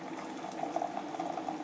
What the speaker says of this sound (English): I'm going to put hot water in here,